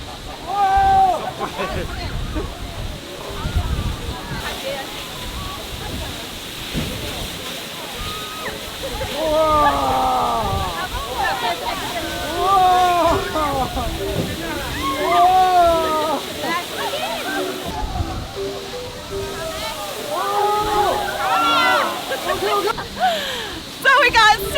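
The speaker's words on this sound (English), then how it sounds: "So we got super close to this waterfall. It's just coming straight down." A tour boat pulls up close beneath a waterfall in Milford Sound, New Zealand, with steady rushing and splashing water throughout and excited voices shouting and talking over it.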